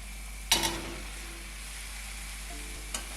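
Roasted chicken drops into frying masala for a Kerala chicken curry. A sudden sizzling burst comes with the drop, settles into a quiet hiss, and a brief scrape follows near the end.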